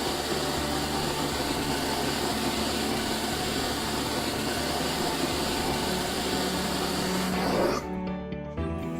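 Drawer Vac, a built-in drawer vacuum cleaner, runs with a steady, loud broadband whoosh for most of the span, then cuts off abruptly near the end.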